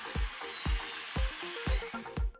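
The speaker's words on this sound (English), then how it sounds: "I'll drill a hole for the power barrel connector next." A series of five sharp, rhythmic thuds or bites, evenly spaced about half a second apart, close and fairly loud, like a drill catching in material while drilling a hole for a power barrel connector.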